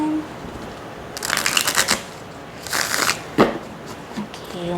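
Close-up hand shuffling of Dreams of Gaia oracle cards with matte cardstock: two brisk riffling bursts of flicking cards, followed by a sharp tap and a few softer rustles.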